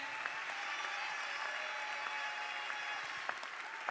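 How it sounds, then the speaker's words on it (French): Audience applause for a prize winner at an award ceremony, steady dense clapping from a crowd throughout, moderately distant with a few sharper claps standing out. "Est-ce qu'on peut l'applaudir, s'il vous plaît?"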